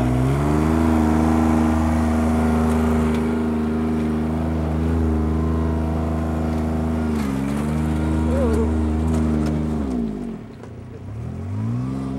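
A vintage farm tractor engine held at full throttle while plowing, a loud steady close drone with a deep even harmonic hum that dips and labors briefly near the end before recovering.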